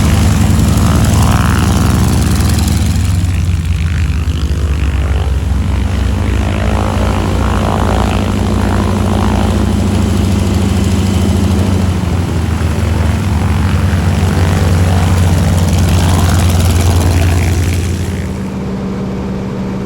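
Propeller airplanes of the AeroShell aerobatic team at AirVenture 2023 drone loudly and continuously overhead, a heavy engine roar that holds steady before easing slightly near the end.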